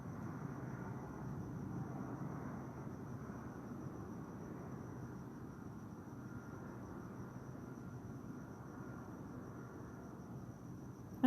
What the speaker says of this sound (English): That's helicopter activity.